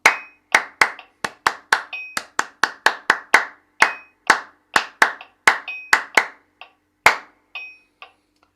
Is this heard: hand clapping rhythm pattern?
yes